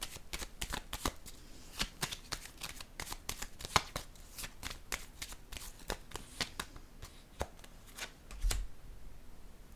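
Tarot cards are shuffled and set down, a rapid series of crisp riffling flutters and soft slaps, close and fairly quiet, then a single thump before a short still pause.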